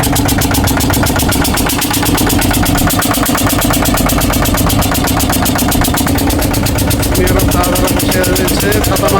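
A motorboat's engine runs steadily on a river, a loud, continuous mechanical drone that holds for the whole stretch with voices mixed in underneath.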